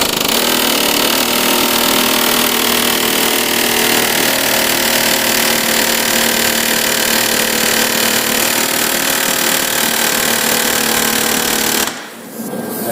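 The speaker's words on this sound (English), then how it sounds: "I've got that bolt installed and I'm going to use it to hammer it out." Steady, loud metallic hammering on a bolt threaded into a rear wheel bearing hub of a 2010 Jeep Patriot/Compass, continuous rapid impacts close up for about twelve seconds before stopping abruptly.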